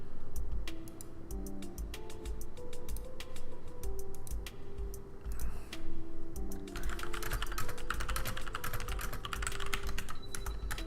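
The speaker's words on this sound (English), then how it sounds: "have a mechanical keyboard now with this setup, so the clicks are stupidly loud." Rapid clattering keystrokes on a loud mechanical computer keyboard, close and continuous with irregular bursts and a denser flurry of clicks toward the end, over a low steady background hum.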